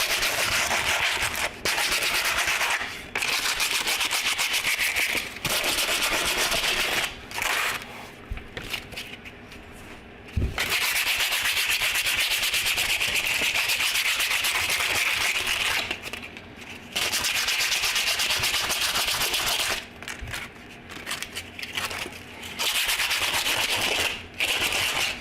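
Hand sanding of surface rust from front suspension parts on a classic Dodge Dart, long steady rasping strokes in bursts separated by brief pauses, close and loud, with no talking.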